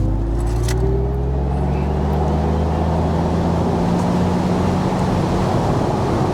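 An MG Cyberster electric sports car pulls hard under full throttle, a steady loud drone of road and wind noise with low humming tones rising continuously as it gains speed, with no talk.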